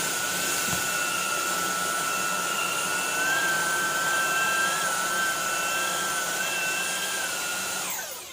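Xiaomi Jimmy cordless vacuum running on max mode across a low pile rug, a loud steady whine with a high motor tone that wavers slightly as it moves, continuous and close until it winds down at the end.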